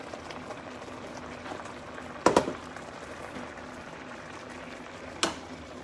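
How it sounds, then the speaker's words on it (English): Creamy Tuscan chicken sauce with wilted spinach simmers and reduces in a pan, giving a soft, steady bubbling hiss broken by two brief louder clinks or pops. "We're going to go ahead and cook that for a little bit and let the sauce reduce"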